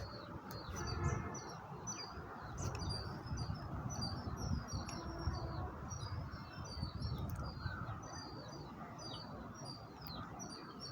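Sparrows chirp in a home garden: scattered bright, quick tweets repeat throughout over a steady low background rumble, with faint insect-like buzzing mixed in and no voices.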